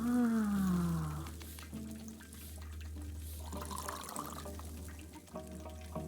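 Acid rain pattering and pouring in the video game Creepy Tale 3, a steady watery hiss with scattered drips, opening with a tonal game sound and continuing at moderate level without speech.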